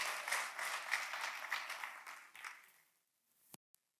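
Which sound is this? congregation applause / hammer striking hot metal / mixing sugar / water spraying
congregation applause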